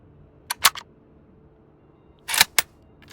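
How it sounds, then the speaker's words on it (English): Rifle bolt pulled back and pushed forward in the video game Road to Vostok: two close, crisp clusters of sharp metallic clicks separated by a brief silence. "You gotta actually pull back the bolt, and then you hit your fire button"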